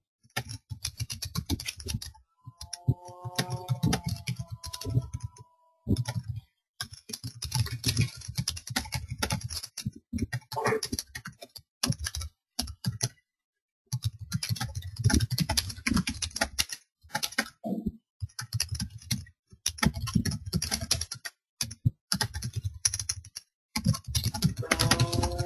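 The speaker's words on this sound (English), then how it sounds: "and you can type your reply." Close, quiet typing on a computer keyboard, quick bursts of key clicks broken by short pauses as a forum reply is written, with brief murmurs of a voice early on.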